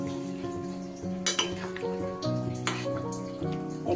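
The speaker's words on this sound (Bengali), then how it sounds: "এবার এতে আমি পরিমাণ মতো জল দিই।" Water is poured into a pan of potato curry, a close splashing and trickling with a couple of sharp clinks of utensils against the pan.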